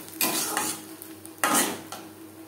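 Cooked mashed leaves scraped from a pan into a bowl with a utensil, two loud metallic scrapes and clinks with softer taps between them, close up.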